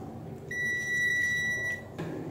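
A multimeter set to continuity mode gives one steady electronic beep lasting just over a second while testing a repaired iPhone USB charging cable, over faint background noise.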